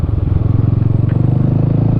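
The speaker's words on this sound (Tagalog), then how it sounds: "Paano mag-engine brake tong scooter?" A scooter engine runs steadily with a pulsing, throbbing low rumble, close and loud, as it engine-brakes on a road.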